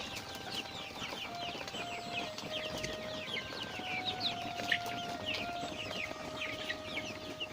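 Many eight-week-old Hy-Line Brown laying hens cluck and chirp continuously in a busy flock, steady and moderately near, with a faint tonal hum in the background.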